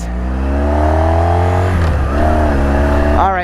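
A 1983 Honda V45 Sabre VF750S motorcycle with its factory exhaust idles and revs close by, a deep, throaty, steady engine note with a brief dip in revs midway and a rising rev at the end.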